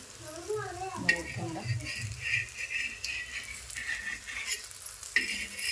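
Gram flour breakfast batter cooks on an oiled griddle pan, giving a steady close sizzle with a few spoon scrapes and light clinks, while someone talks over it.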